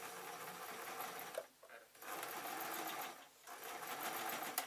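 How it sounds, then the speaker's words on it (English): A sewing machine stitching felt for an owl craft, close and steady bursts of rapid mechanical whirring broken by two short pauses, with no talking. "I'm definitely going to sew down the black."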